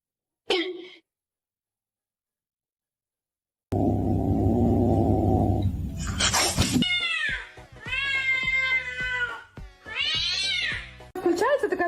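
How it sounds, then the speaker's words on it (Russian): A cat meows several times in a row, loud and close, after a short burst of noise, with harmonic rising-falling calls separated by brief pauses. "Включается такая воспитанная кошка."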